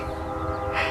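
A noisy train passes beside an organic vegetable garden, a steady rumbling roar with a tonal horn-like hum layered over it, loud and continuous.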